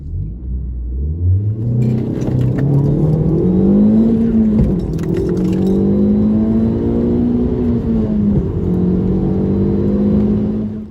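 A car with a 1.8 turbo petrol engine pulls away quickly. The engine note is loud and close, climbing steadily in pitch as it accelerates, with no talk over it.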